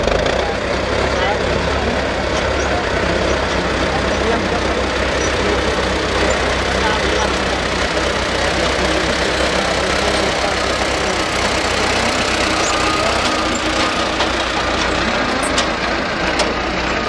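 A tractor engine runs steadily throughout, a dense continuous mid-pitched rumble with a knocking idle quality, loud and close, with people talking over it.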